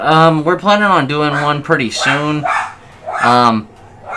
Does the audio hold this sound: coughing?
no